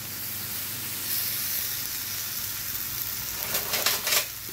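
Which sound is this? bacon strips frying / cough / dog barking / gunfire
bacon strips frying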